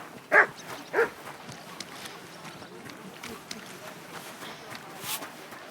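A dog in the medieval video game Kingdom Come 2 gives two short, sharp barks close by near the start, followed by quieter footsteps and faint ambient game sounds.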